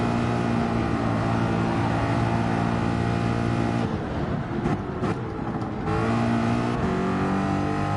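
A Ford Mustang Gr4 race car engine in Gran Turismo 7 drones loud and steady, easing off briefly mid-run with a few gear-change dips before climbing back to full throttle.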